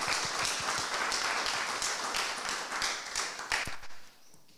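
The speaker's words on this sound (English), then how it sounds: "I'd just like to offer up another round of applause before he leaves" An audience claps together in a hall, a dense burst of applause that holds steady for a few seconds, then thins to scattered claps and dies away.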